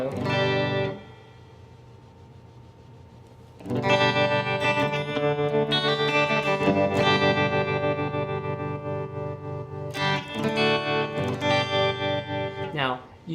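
Electric guitar played through the AmpliTube amp app on an iPhone via an iRig interface, with a tremolo effect. A sustained chord rings and fades, then after a short lull a louder run of strummed, effected chords continues to the end.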